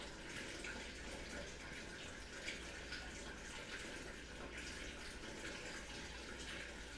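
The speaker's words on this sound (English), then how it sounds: "I have my water jug. I think this is like 32 ounces. I'm gonna fill it up." Water running from a tap into a 32-ounce water jug, a faint, steady rushing hiss that continues evenly without a break.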